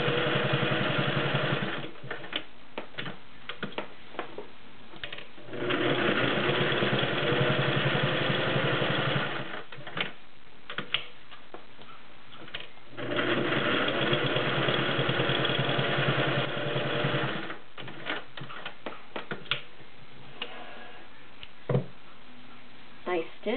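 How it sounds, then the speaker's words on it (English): A vintage all-metal, beltless Singer 401A sewing machine with a size 16 needle stitches through six layers of denim in three whirring runs of several seconds each, separated by pauses with light handling noise and a few clicks. "6 layers of denim, and I'm using a size 16 needle."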